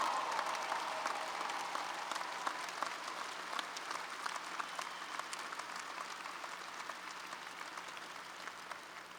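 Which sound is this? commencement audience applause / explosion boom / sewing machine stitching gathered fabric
commencement audience applause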